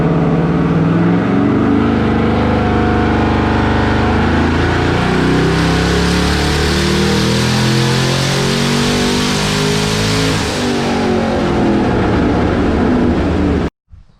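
A twin-turbo 6th gen Camaro with two ECUs and 16 injectors revs hard under boost, its loud engine note climbing steadily in pitch for over ten seconds before cutting off abruptly.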